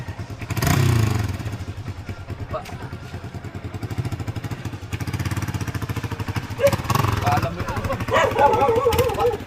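A motorcycle engine idles and putters close by with a rough, rapid rhythm, revving briefly while a person talks over it.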